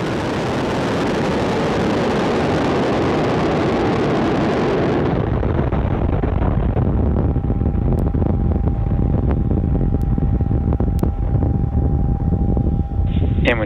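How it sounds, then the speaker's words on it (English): Falcon 9 rocket lifting off on the Transporter 14 launch: a dense, continuous broadband roar that stays loud throughout, rumbling hardest in the first seconds, then thinning slightly while the crackling thunder carries on. "And lift off of Falcon 9."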